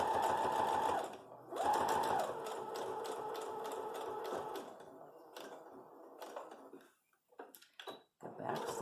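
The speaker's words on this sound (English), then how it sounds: "Go back stitch a few, come forward a few" A sewing machine stitches a fabric face mask, backstitching and then sewing forward in a few short bursts. The motor hum is close and starts and stops several times, with brief quiet gaps and faint handling noises.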